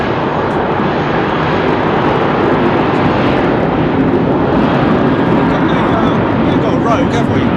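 An ex-KLM Boeing 747 Combi freighter at Heathrow airport gives off a constant, loud, broad engine roar with no breaks, heard close.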